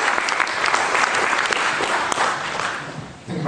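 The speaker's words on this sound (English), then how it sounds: "Could we please have a round of applause" A round of applause from the audience at a science and atheism debate, strong, dense clapping that holds steady and then eases off slightly toward the close.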